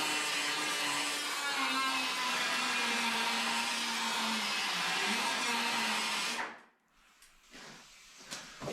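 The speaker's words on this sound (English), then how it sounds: "I'm gonna be drilling some holes for the axle shaft, and I don't have a 5/8 drill, so again, die grinder with a good carbide burr will go a long way" A die grinder with a carbide burr boring axle-shaft holes while wheels are fitted to a Miller Dialarc 250 HF TIG welder. It gives a loud, steady high whine for about six seconds, then cuts off, leaving faint clicks and handling noises.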